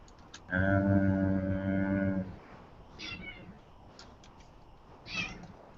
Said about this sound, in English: If you hear the meowing, he's chasing a bug,